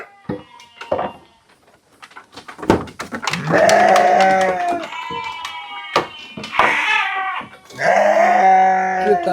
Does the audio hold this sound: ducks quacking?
no